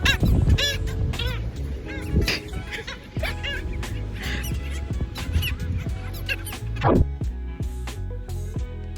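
Birds honk repeatedly at a beach, loud, close and overlapping in irregular bursts, with laughter and shouting voices mixed in.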